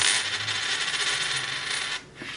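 A regular clad Washington quarter drops onto a hard surface and spins, ringing in a dull, wavering wobble before settling quickly.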